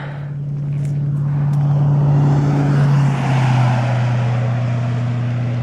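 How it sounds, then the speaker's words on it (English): A vehicle passes on a rural road in eastern Oregon, its engine drone swelling gradually and then fading with a slight drop in pitch, fairly loud against a windy outdoor background. "Wow, we actually had a vehicle."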